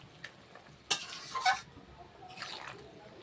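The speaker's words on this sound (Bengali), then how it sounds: "পোস্ত বাটা দিয়ে দিয়েছি আর দিয়ে দেব সর্ষে বাটা এইভাবে একটু নেড়ে দেব সব দিকে যাতে মিশে যায়" Poppy seed paste and mustard paste being stirred in a frying pan for shukto, quiet low sizzling with a few brief bursts of spatula scraping and clinks.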